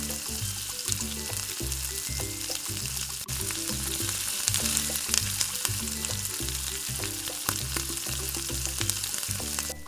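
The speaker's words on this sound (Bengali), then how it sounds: "কাঁচা লঙ্কা দেওয়ার পরে আমরা ভালোভাবে নাড়াচাড়া করে নেব যাতে পুড়ে না ধরে" Green chillies sizzle and crackle as they are stirred with chicken in a pan while cooking chicken rezala, a steady close frying hiss with rhythmic scraping strokes of the spoon throughout.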